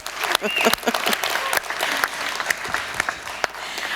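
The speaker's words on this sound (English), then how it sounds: "let's give them a round of applause" Conference audience giving a round of applause, a loud, sustained patter of many hands with sharp individual claps standing out, and a brief voice near the start.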